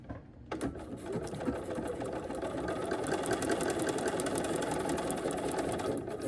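A sewing machine stitches through foundation paper for flying geese patchwork at a short stitch length, a steady rapid whirring hum that runs continuously after a quick start, close by.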